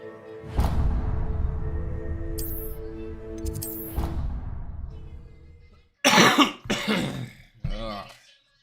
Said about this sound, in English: Cough is getting to me bad.